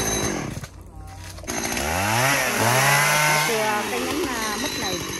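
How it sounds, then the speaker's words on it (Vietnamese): A chainsaw cutting a large ambarella tree revs and whines up and down close by, loud and continuous, with a voice talking over it at the start. "Cây cốc này rất là bự, anh Dân sẽ cưa"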